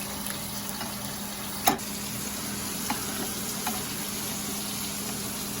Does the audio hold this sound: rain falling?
no